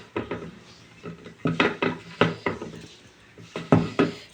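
Fresh fenugreek leaves dropped by hand into an empty bowl in a home kitchen, giving a series of soft rustling handfuls with light clinks against the bowl, close and fairly quiet, with no talk.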